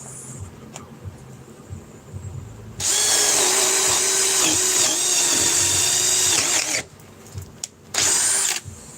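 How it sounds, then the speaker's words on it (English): A cordless battery drill spins up loud and close in a long whine of about four seconds, then two shorter bursts follow after brief pauses, with faint handling noise in between. "I'm impressed with this drill to a point"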